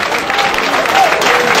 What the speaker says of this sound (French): Des applaudissements pour le président du parti